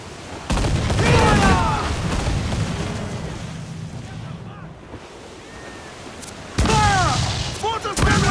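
Ship mortars fire in Assassin's Creed IV Black Flag, with two loud booming volleys over wind and crashing ocean waves, while voices shout during the bursts.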